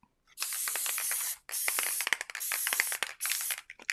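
Spray adhesive hisses from an aerosol can in several close, loud bursts, with short pauses and clicks of the nozzle between sprays, used at a papercraft work box.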